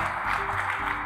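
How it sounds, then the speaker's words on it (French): Applause from an audience at a women's leadership workshop forum, a steady, dense wash of clapping filling the short moment without a break. "applaudissez les dames et les messieurs, s'il vous plaît"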